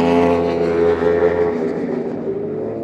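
A motorcycle rips around the Inde Motorsports Ranch race track with a loud, close, steady engine drone whose pitch sags slightly as it runs.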